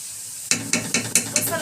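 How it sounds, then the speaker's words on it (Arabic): Onions frying in a pan are stirred, a soft sizzle broken by six quick scraping strokes of the utensil at an even rhythm, close and clear with no talking. "تفضلي تقلبي كده في البصله"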